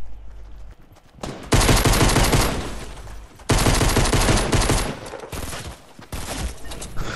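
Loud bursts of automatic gunfire in Fortnite, two long sustained volleys of close rapid shots separated by short pauses, with a third burst starting near the end.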